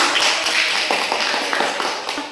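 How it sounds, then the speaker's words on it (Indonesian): A brief burst of light, scattered clapping from a small group of students in a classroom, close by and fading after a couple of seconds. "Tepuk tangan kalian."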